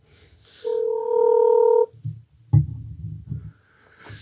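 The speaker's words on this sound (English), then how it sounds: "bear with me as I get him on the phone" A telephone line sounds a clear, steady electronic tone lasting about a second, followed by a few low clicks and rumbles as the call connects.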